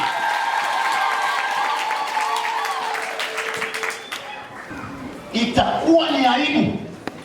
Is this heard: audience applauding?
yes